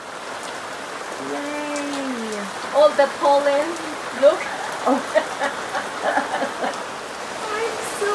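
Steady rain falls over a mountain area near a wildfire, a broad even hiss that carries through the whole clip while someone talks excitedly over it.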